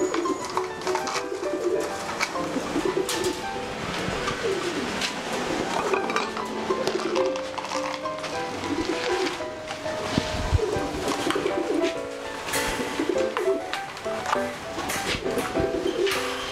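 Pigeons coo softly in a breeding loft, their low throaty calls mixed with frequent metallic clinks and clatter, all at a moderate, busy level.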